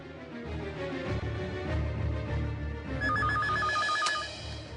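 A telephone rings indoors in a household scene from a Tamil TV drama, with a warbling electronic ringtone pulsing in repeated bursts over background music, clear and fairly loud.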